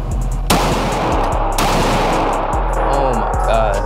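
A Glock 19 MOS pistol fires at an outdoor range: two loud, sharp shots about a second apart, each with a short ringing tail, followed by fainter distant reports.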